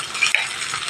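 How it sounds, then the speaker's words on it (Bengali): Ridge gourd pieces sizzling in hot oil with a little salt, a steady close broadband hiss with a couple of brief clinks near the start. "তেল গরমও হয়ে গেছে, ঝিঙেগুলো ভেজে নেব।"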